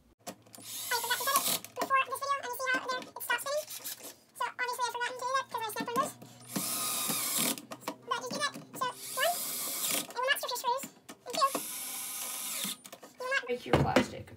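An electric screwdriver drilling into plastic whirs in repeated short bursts, close up and buzzing, with brief pauses between runs and someone speaking over it.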